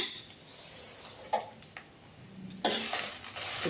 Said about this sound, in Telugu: కొబ్బరి నూనె వేసుకుంటున్నా చాలా ఫాస్ట్గా వేగిపోతాయి